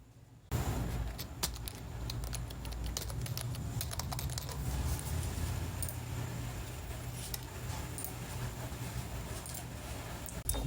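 Rapid clicking of computer keyboard keys as a password is typed, a steady run of close, fairly faint taps continuing throughout with no talking.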